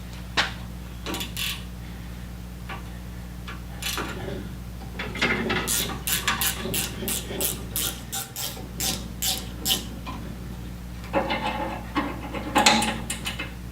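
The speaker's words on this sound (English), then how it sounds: "So grab a 9/16 and remove those 4 bolts." A 9/16 wrench ratchets bolts out of a 1930s Wayne 60 gas pump: quick clicking bursts repeat in short runs close by, separated by pauses and light metallic handling over a low steady hum.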